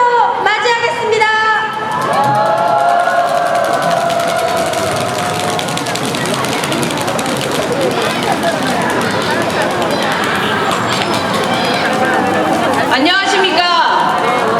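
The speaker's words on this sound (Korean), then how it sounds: "큰 함성과 촛불로 맞이하겠습니다" A large outdoor crowd at a candlelight political rally in Incheon roars and shouts in a sustained wave of cheering, loud and continuous, with an amplified voice sounding over it near the start and end.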